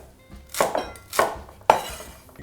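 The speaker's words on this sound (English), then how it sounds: "I'm just gonna chop some of the mirepoix" Knife chopping mirepoix vegetables (onion, celery, carrot) into large chunks on a board: three distinct, sharp cuts spaced about half a second apart, close and clear with no voices.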